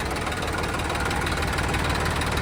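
A Massey Ferguson 241 tractor with about 100 hours of use, in original condition, runs with a steady, loud diesel clatter, close and unbroken throughout.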